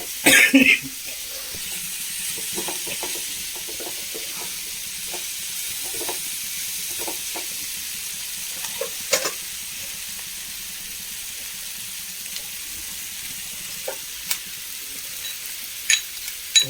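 Sautéed cauliflower for a masala hits a hot pan, giving a soft continuous sizzle under scattered spoon scrapes and light clicks, with one brief louder burst near the start.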